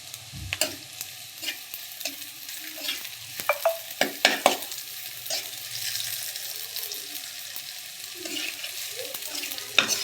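Poppy seeds fry in a little oil with soft, steady sizzling, broken by scattered clicks and scrapes of a spatula stirring against the pan, close up and fairly quiet.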